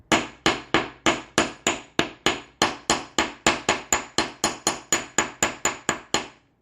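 A jewelry hammer flattens and hardens wire earrings on a hard block, striking about twenty crisp, evenly spaced blows close up with a steady rhythm and no talking.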